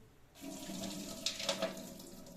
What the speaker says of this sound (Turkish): Durulamaya geçeceğim. Şöyle içerisini dökeyim.